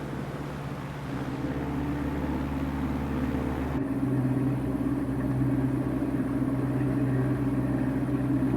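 Twin engines of a Camair 480 Twin Navion drone steadily in flight over the Florida Keys, a constant low hum that shifts slightly in tone partway through.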